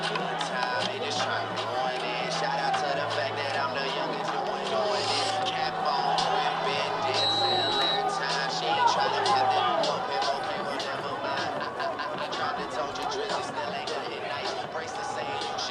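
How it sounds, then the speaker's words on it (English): Loud crowd chatter and cheering at a high school varsity football game between Arapahoe and Heritage, a constant close babble of many voices with scattered shouts throughout. "sorry for how loud the crowd mic was there"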